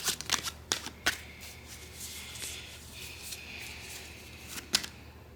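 Tarot cards shuffled close up in a reading, with crisp riffling bursts and soft sliding card rubs over quiet room tone and no talking.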